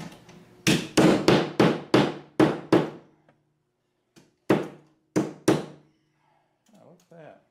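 Sharp metallic hammer blows straightening a bent saw blade, in a quick run of about eight, then a pause and three more strikes, ringing and close by.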